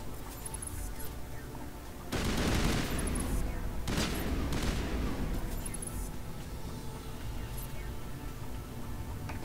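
Video game gunfire from Mass Effect, a dense run of rapid shots with two louder bursts near the start and middle, continuing steadily at moderate volume under a game soundtrack, with someone talking over it.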